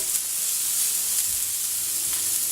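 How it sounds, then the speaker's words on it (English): Bacon and asparagus sizzle steadily on a grill over medium heat, a continuous bright hiss with faint crackles and no talking. "That sizzle, that's nice, because that means our bacon's going to crisp up."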